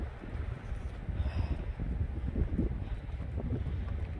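Gusty wind outdoors buffets the microphone in rough, low rumbling bursts, steady and fairly loud for the whole stretch, with no one talking.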